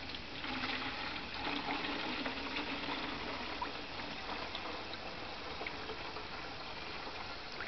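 Liquid fertiliser mixture being poured into a hose feeder container outdoors, a steady trickling and splashing pour that runs continuously at moderate level with no talk over it.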